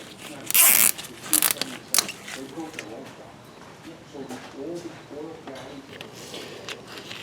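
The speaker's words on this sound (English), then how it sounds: "Now I'm going to put a zip tie on this side" A plastic zip tie ratchets tight on a Ford Focus timing belt: a few quick, rasping zipping bursts at close range early on, followed by quieter handling noises while someone speaks.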